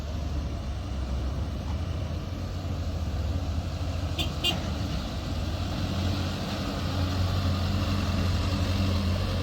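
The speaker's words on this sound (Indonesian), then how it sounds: "truk akan mengangkut tanah ini dibawa ke lokasi yang sudah ditetapkan oleh Dinas SDA" Dump trucks hauling soil at the Kali Cipinang reservoir construction site in Kampung Dukuh, East Jakarta: a continuous low engine rumble of idling, moving trucks with a brief faint beep partway through.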